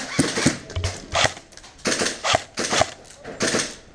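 Airsoft guns firing during an airsoft game in a factory site, a run of sharp snapping shots in irregular bursts, close by, with voices mixed in.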